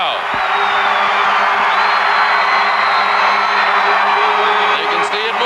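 Dense New Year's Eve crowd in Times Square, New York City, waiting for the ball drop: a steady, loud roar of many voices with whoops and shouts rising above it, broadcast-style with a sustained tone underneath.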